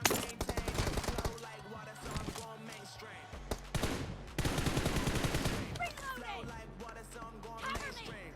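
Rapid bursts of automatic gunfire from the PUBG Mobile battle game, dense volleys with short gaps and some sharper single shots, mixed with game effects and a player talking over it.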